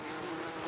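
Flies and other small insects buzz in a constant drone around a bowl of fermenting fruit, a steady close hum with no talk over it.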